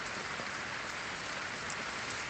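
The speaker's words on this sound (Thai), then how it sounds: "วันนี้ฝนตกดิฉันก็สู้นะคะ" Heavy rain pours steadily outdoors in a home garden where ornamental caladium plants are kept, a dense, even hiss filling the whole stretch without any voices.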